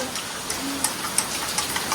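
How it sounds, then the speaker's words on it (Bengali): Heavy rain pouring outside a house during a waterlogging downpour, a dense steady wash of noise with scattered sharper drip ticks, moderately loud and without talk. "এই যে ঝমঝমিয়ে বৃষ্টি বাড়ির বাইরে"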